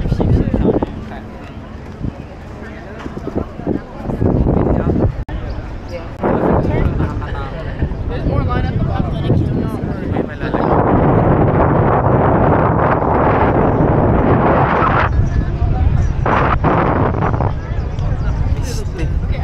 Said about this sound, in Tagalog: Lamig ng hangin dito sa side na.